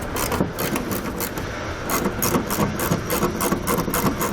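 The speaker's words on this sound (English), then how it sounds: "We're going to grab a T15 Torx bit and we'll pull those two screws out." A close, steady mechanical whirring with rhythmic pulsing, like a driver backing out the T15 Torx screws that hold a vehicle's taillight, continues without pause.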